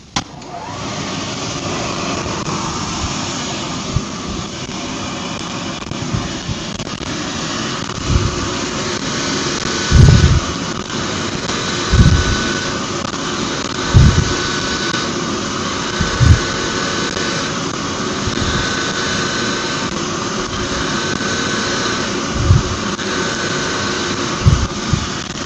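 A wire wheel machine for valve reconditioning runs with its big blower as a loud, steady mechanical roar, with periodic brief thumps or clanks rising above the drone.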